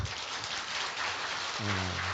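An audience at a church family seminar applauds with a dense, steady wash of clapping, and a voice briefly speaks near the end.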